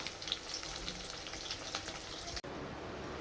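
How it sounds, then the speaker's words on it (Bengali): Chicken fries in a pan with a faint, steady sizzle and soft spatter, briefly cut off near the end before the quiet hiss resumes. "আর এদিকে এখন আমি চিকেনগুলো ফ্রাই করে নিচ্ছি"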